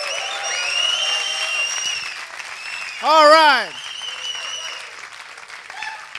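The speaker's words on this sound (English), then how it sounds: "I want everybody to stand up and give us a big applause" An indoor crowd at a tech camp event claps in sustained applause, loud and dense, while a host speaks over it through a microphone and a short vocal exclamation rises briefly in the middle.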